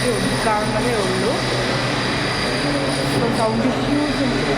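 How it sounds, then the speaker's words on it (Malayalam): A train rumbles at a Tamil Nadu railway station, a steady loud low drone with faint tonal whines drifting over it and someone talking underneath. "നമ്മളിപ്പം തമിഴ്നാട് റെയിൽവേ സ്റ്റേഷനിലാണ്."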